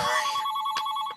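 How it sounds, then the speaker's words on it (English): A home telephone rings indoors, a bright, trilling electronic ring that sounds loud and close, with short pulses, before cutting off. "Oh my God, the phone again."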